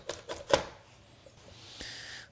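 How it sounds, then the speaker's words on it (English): A kitchen knife dices tomatoes on a cutting board with three quick chops close together, followed by quieter board and handling noise. "Much quicker way of dicing tomatoes."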